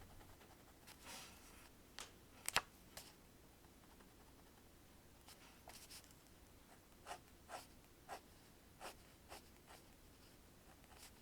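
A pencil scratches across sketchbook paper in short, sparse strokes and taps, faint and close in a quiet room, with gaps of near silence between marks.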